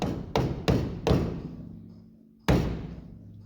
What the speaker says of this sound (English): Plastic hammer so I don't bend this dust cap.